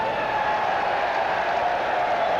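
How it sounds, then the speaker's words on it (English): A ballpark crowd gives sarcastic applause after a caught fly ball at a baseball game, claps and murmurs in a steady, diffuse wash, moderately loud and unbroken throughout. "the sarcastic applause of riverfront fans"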